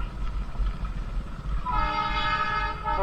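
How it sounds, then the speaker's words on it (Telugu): A train rumbles by with a low, steady roar, and partway through a long, loud horn blares and holds until the end. "ట్రైన్ ఉంది ఇక్కడ."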